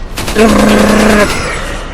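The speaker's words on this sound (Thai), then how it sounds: "ตั้งแต่เปลี่ยนชุดเจ้าพ่อยังไม่ได้ใช้ปืนกลนะครับทุกคน" Machine gun fire in Resident Evil 4 rattles out as a rapid, loud burst lasting about a second, with a pitched grunt-like tone over the shots before the sound fades.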